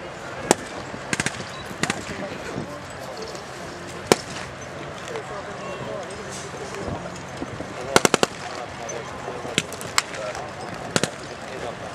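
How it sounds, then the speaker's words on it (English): Gunfire rattles through heavy fighting in Chechnya in 1995, with sharp isolated shots and short bursts cracking over a dense, continuous background of distant combat noise. "Heavy fighting, the Chechens are laying down a field of fire."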